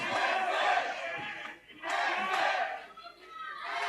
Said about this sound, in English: The crowd's certainly loving this fight at Thunderdome, Brett